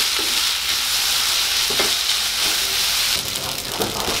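Spaghetti and browned garlic sizzle loudly in a hot oiled pan while being stirred and tossed together for Spaghetti Aglio e Olio, a steady, close crackling hiss with occasional scraping stirs.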